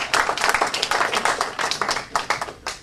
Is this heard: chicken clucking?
no